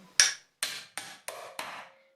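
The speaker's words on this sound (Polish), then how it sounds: "posłużę się tasakiem i uwaga, młotkiem" Five sharp metallic strikes ring out at a steady pace, each hammer blow on a cleaver cutting through a salmon's backbone, decaying quickly, close and fairly loud.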